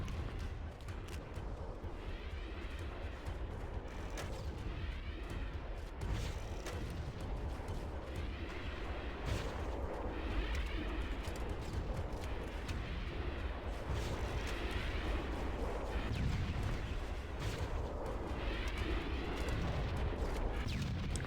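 Repeated heavy explosions from rocket launcher fire in Halo: Combat Evolved, a string of booming blasts and rumbling bursts spread across the stretch, fairly quiet overall with little talk.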